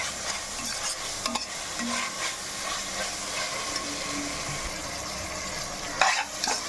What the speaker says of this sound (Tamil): தக்காளியை சேர்த்துட்டு தக்காளி நல்லா மசிஞ்சு வர வரைக்கும் வதக்கிக்கலாம்